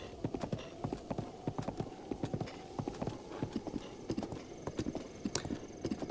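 Horse galloping across open country in the video game Zelda: Breath of the Wild, with steady, rhythmic hoofbeats pounding close and clear throughout, a brief whinny near the end, and no talk.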